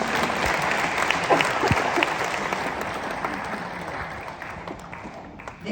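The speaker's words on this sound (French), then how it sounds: "Alors s'il vous plaît, vos oreilles attentives, applaudissez pour vous-même." An audience at a UNESCO performance applauds, a dense wash of clapping that starts strong and gradually thins and fades over several seconds.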